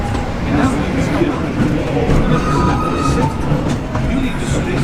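A Disneyland park train ride rolls along with a steady, close rumble and faint wheel clatter that never lets up, and a voice talks over the top the whole time.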